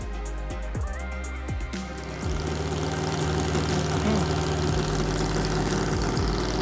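A 1,500-horsepower 5.4-liter race engine idles at a racing festival, a deep, loping rumble with uneven pulses that grows slightly fuller after a couple of seconds, close and continuous.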